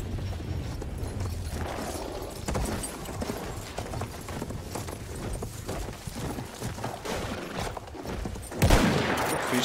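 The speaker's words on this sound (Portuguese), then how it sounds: "Muito fixe, dá para disparar no cavalo." Rapid gunfire cracks from horseback in the World War I shooter Battlefield 1, volleys of shots layered over galloping hoofbeats, with a louder blast near the end.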